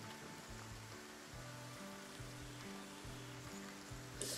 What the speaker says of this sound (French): La pluie dans le jeu, elle est forte,